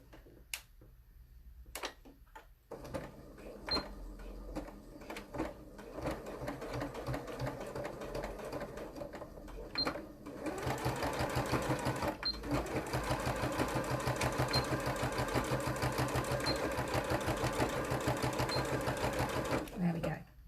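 A sewing machine stitches a single welt pocket in short bursts of rapid needle clatter at first, then runs in one longer steady run, with a person talking quietly between stitches.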